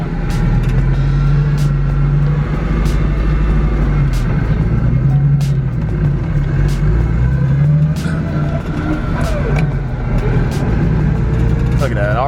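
A Ford Foxbody drift car drives close by, its engine droning steadily with low rumbling tones and changes in pitch as gears shift, while people talk over it.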